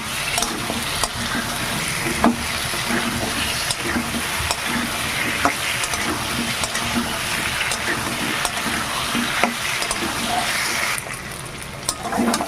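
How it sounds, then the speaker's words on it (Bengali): Taro pieces sautéed with spices in a pan, a steady loud sizzle running throughout with periodic scraping and stirring clatters from a spoon, no talking. "কচুগুলোকে প্রথমে মশলার সঙ্গে একটু কষিয়ে নেব"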